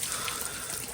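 Hot spring water near a temple in snowy Manali flows in a steady, close, continuous hiss and gurgle with no breaks.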